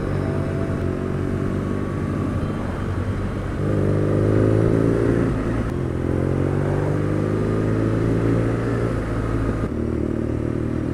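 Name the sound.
2019 BMW R nineT Scrambler motorcycle engine and exhaust riding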